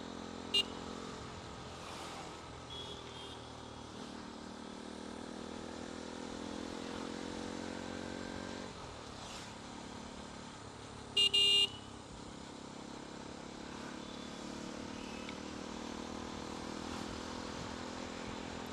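Road traffic on the Goa highway, with vehicles overtaking: a steady, moderately loud engine hum passing close by, a couple of sharper bursts midway and a brief horn-like tone, with no talk.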